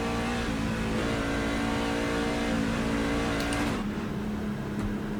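A NASCAR race car engine in the iRacing sim at Las Vegas drones loud and steady at high revs, then dips in pitch as the revs fall, with no talk over it.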